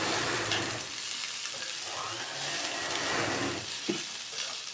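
Ingredients frying in a pan are stirred and mixed, giving a steady close sizzle with scraping and stirring noises and a sharp clink near the end, with no talk.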